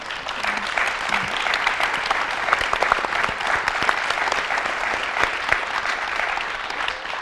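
An audience claps steadily during a university panel discussion, a dense mix of many hands with sharp individual claps standing out, sustained at an even level throughout.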